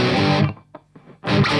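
An electric guitar plays through distortion tightened by a Tube Screamer pedal: a loud, dense chord rings, cuts off into brief quiet with a faint note, then another heavy distorted chord hits.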